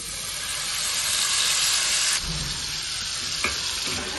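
Ground spice paste with bay leaf spits and sizzles in hot oil, a loud hissing fry that drops slightly partway through, followed by a brief clatter near the end.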